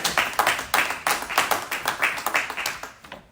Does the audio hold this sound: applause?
yes